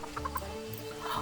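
Chickens in a barnyard enclosure in the Planet Zoo video game give a few quick, soft clucks in a short burst, then another near the end, over a low ambient hum.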